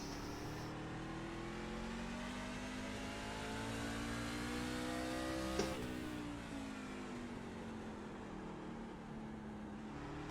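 A NASCAR truck engine races around Martinsville in iRacing, revving up through the gears with a rising whine, a brief sharp shift blip midway, then climbing again, loud and continuous without talk.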